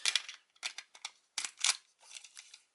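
Plastic toy summoning keys pushed into a plastic set and locking in by friction, giving a close series of sharp clicks and snaps in short irregular bursts with brief pauses, no talking.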